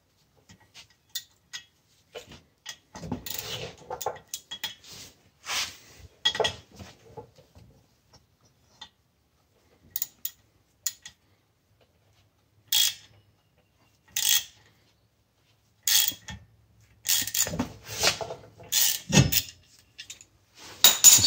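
A 12 mm wrench turning a bolt in a threaded hole to push a stuck brake rotor off a car hub: scattered metallic clicks and clanks in short bursts with quiet gaps between, close by.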